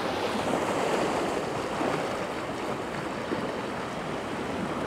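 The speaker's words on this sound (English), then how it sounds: "it's just the waves." Sea waves on the Bristol Channel wash steadily in a continuous broad roar, with wind blowing across the microphone throughout.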